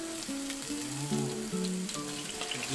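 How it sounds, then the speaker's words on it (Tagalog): Sliced ginger hits hot cooking oil in a pan, giving a brief, soft, steady sizzle with faint crackle. "pag mainit na yung ating mantika, pag nag-isa ko, una ko nilalagay yung luya"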